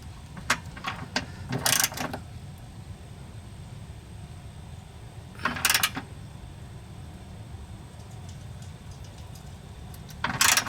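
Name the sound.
ratchet loosening and tightening Toyota MR2 motor mount bolt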